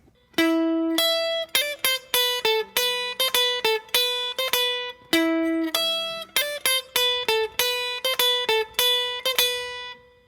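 A single electric guitar plays a melodic riff alone, clean picked notes in a bouncing repeating phrase that loops twice over about ten seconds.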